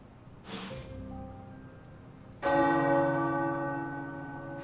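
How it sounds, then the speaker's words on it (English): Two resonant tower bell strikes in Midnight Suns, the first shorter, the second louder and ringing out with a long, slowly fading hum of overtones. "The tower bells are ringing."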